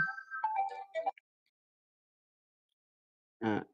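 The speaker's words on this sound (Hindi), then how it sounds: "सॉरी एक फोन आ गया" A phone ringtone plays a short melodic phrase, followed by a pause of silence, then another loud burst of ringing begins near the end.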